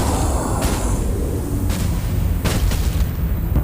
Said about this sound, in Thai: ถอยถอยถอยถอยมันจะระเบิด